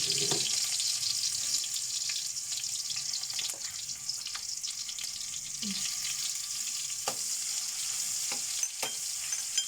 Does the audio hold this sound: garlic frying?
yes